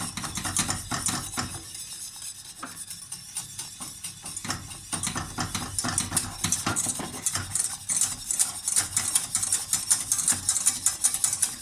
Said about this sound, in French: Et on fouette.